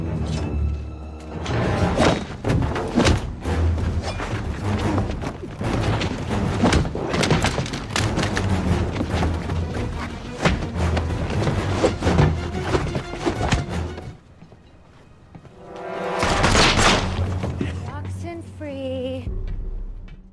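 A film shootout between agents: dense, rapid bursts of loud gunfire-like impacts pile up over a churning action soundtrack for most of the stretch, then drop to a near-silent gap before a final swell of sound.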